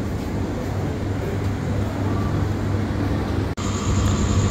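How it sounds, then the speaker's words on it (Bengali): Nilsagar Express train pulling out of Natore railway station, a steady low rumble of rolling wagons heard from the platform, with a sharp brief dropout and a thin high whine toward the end. "ছেড়ে গেল নীলসাগর এক্সপ্রেস"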